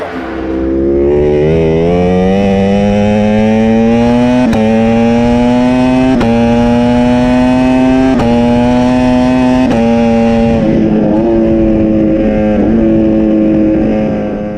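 A loud, high-revving video game race car engine whines continuously at around 260 km/h on a straight, pitch climbing through gear shifts with sharp breaks between them, close and steady.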